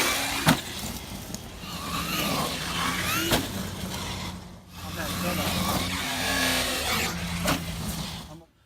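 A Traxxas Xmaxx RC truck fitted with 1.5 mod gears runs in bursts, its electric motor whining and rising between sharp knocks and impacts, with voices heard over the action.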